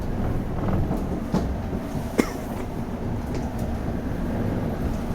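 A South Western Railway train from Windsor & Eton Riverside pulls into London Waterloo, giving a steady low rumble inside the carriage with a few soft clicks and one sharp knock.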